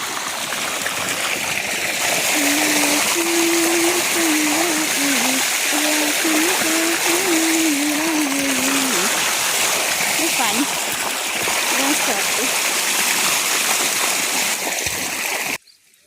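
Continuous rushing, splashing water flows steadily through irrigation pipes into a wheat field, loud and close, with someone talking over it for much of the time.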